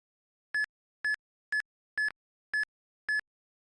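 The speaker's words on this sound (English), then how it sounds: "You probably heard the beeping this time." Eon Timer countdown for soft resetting Pokémon Ruby and Sapphire gives six short, evenly spaced electronic beeps about half a second apart, clear and alone against silence.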